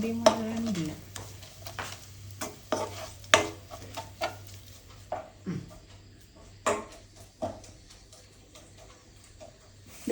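Onions sauté in a pan, a soft sizzle underneath intermittent scraping and clinking stirs of a spoon against the metal cookware, spaced irregularly and fairly close.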